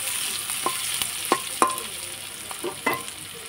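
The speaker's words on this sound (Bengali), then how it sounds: "দেখো পেঁয়াজ আর রসুনটা ভাজা ভাজা হয়ে গেছে" Chopped onion and garlic with dried red chilli fry in ghee for a lentil tarka, giving a steady close sizzle broken by several sharp scrapes and clinks of stirring, with no talking.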